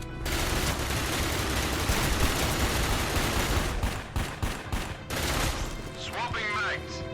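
Rapid pistol gunfire rattles in bursts during Dark Sector on PS3, sharp repeated shots with brief gaps, ending with a metallic ringing sweep.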